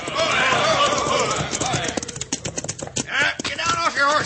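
Horses of an arriving bandit gang in an old-time radio Western, hooves clopping in an irregular patter that grows busier toward the end, mixed with voices and background commotion.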